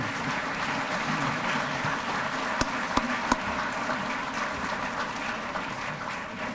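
Sustained applause from a crowd at a chamber of commerce awards dinner fills the space at an even level, with a few sharper claps standing out partway through.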